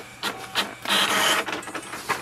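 An HP Envy Pro 6420 printer runs a print job with whirring feed motors, clicks and a sustained mechanical rattle as paper moves through, close and fairly loud.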